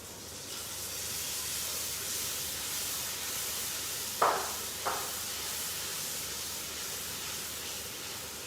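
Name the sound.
masala roasting in ghee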